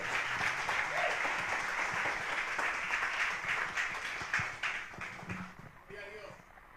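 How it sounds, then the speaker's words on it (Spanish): A church congregation claps enthusiastically during a Sunday service, the applause slowly thinning out toward the end, with voices mixed in. "Denle un aplauso fuerte al Señor."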